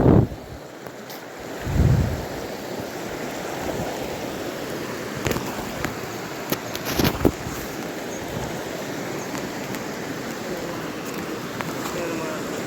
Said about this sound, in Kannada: ಎಸ್ ನೋಡಿ ನೀರು ಎಂತೆಷ್ಟು ಗ್ಯಾಪಿಂದ ಎಲ್ಲ ಬರ್ತಿದೆ.